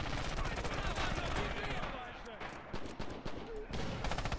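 Gunfire fills a 64-player WW2 battle in Red Orchestra 2 as rapid, dense rifle and machine-gun shots crack near and far, with a voice speaking in between.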